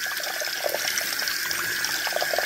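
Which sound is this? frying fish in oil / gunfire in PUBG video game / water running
water running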